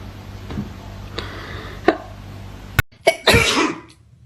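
A sharp, explosive burst followed by a loud noisy rush, like a sneeze, after a few quieter clicks and bumps in a close room.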